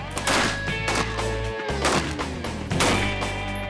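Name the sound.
gunfire shooting tracer rounds at a tank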